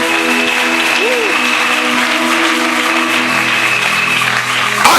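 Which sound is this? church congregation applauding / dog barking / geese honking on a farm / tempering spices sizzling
church congregation applauding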